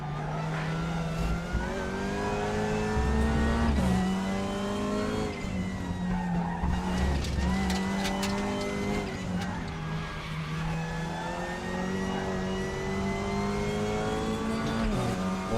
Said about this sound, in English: Lots of wheel chatter coming from that damage on the left hand side.